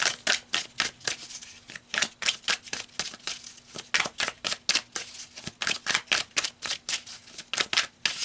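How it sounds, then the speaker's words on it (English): Tarot cards are shuffled by hand in a steady run of crisp riffling bursts, about three per second, close and fairly quiet with no talking over them. "So let's pull some more cards."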